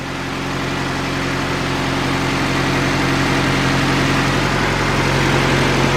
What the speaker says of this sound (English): Hey, nice and quiet. Doesn't even sound like it's turbo.